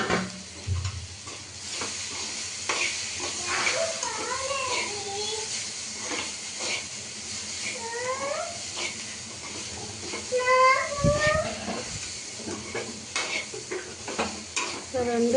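Boiled toor dal and ponnaganti leaves stirred and fried together in a pan, Nellore style, a loud continuous sizzle with scraping spoon strokes, as someone talks over it.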